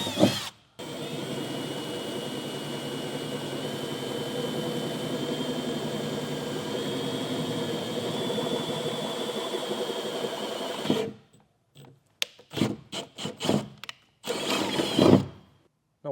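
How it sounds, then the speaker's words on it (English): Power drill boring small pilot holes for well nuts during installation of a Curt 5th wheel/gooseneck wiring harness on a 2019 Ford F-250, a steady whirring run of about ten seconds followed by several short bursts, close and loud. "But first I'll drill a smaller pilot hole through the center of each of my marks."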